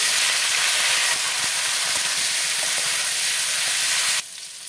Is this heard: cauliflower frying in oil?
yes